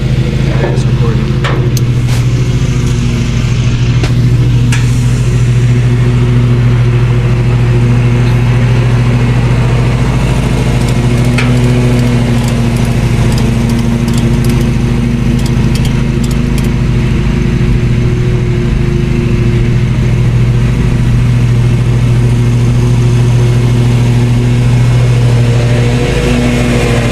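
A 1996 Kawasaki ZX9R sport motorcycle engine runs loud and close, a steady droning hum that holds throughout with only slight changes in pitch.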